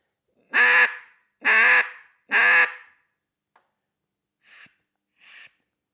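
Three loud, raspy duck-call quacks in a row, followed by two short, thinner toots, close and alone with silence between.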